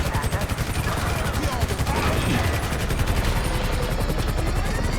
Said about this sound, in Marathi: पोलिसांचे हेलिकॉप्टर येणार आहेत.